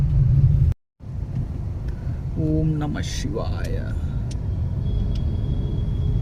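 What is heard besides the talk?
heavy road traffic in Haridwar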